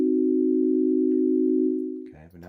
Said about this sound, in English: And I'll keep it a sine wave.